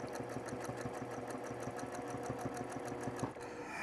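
A sewing machine stitches steadily while machine quilting a fabric panel, a rapid, even mechanical chatter that runs continuously at close range.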